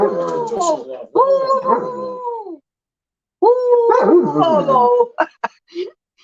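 A dog gives long, wavering whimpering howls and yips in two bursts separated by a short silence, loud and close, ending in a few short sharp yaps, with a brief exclamation from a person.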